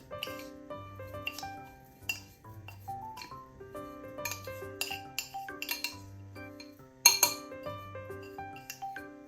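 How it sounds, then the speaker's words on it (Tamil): Flour mixed in a bowl with a spoon for fruit cake batter, giving rhythmic ringing clinks and taps of metal on the bowl, close and fairly quiet, with one louder knock near the end. "இப்படி வந்து மாவை போட்டு மிக்ஸ் பண்ணி கொள்கிறேன்."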